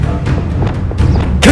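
Incendio and Expelliarmus spells cast in the video game Hogwarts Legacy, heard as low thuds and booming impacts, loud and close, ending in a brighter crackling burst.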